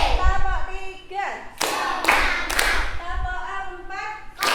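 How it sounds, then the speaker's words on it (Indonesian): A school class performs a counted clapping routine, with sharp group claps and thuds coming in bursts between children's chanting voices in a classroom. "Ayo kita tepuk fokus."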